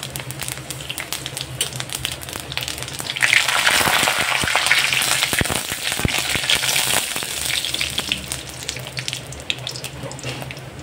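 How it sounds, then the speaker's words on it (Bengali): Bay leaf, dry chilli and panch phoron crackle and sizzle in hot oil for a Bengali katla fish-head dish, a dense, steady frying hiss that swells louder after a few seconds, with scattered pops and no talking. "তেলের উপর দিয়ে দেবো তেজপাতা, শুকনো লঙ্কা আর পাঁচফোড়ন।"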